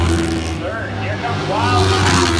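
Racing motorcycles roar around the Lima track during a heat race, a dense, loud, sustained engine howl with rising and falling pitch as bikes pass, under a race announcer's voice.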